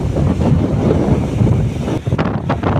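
Sea waves crash against coastal rocks near a harbour where small fishing launches are used, a loud continuous roar of surf with wind buffeting the microphone and sharper splashes surging near the end.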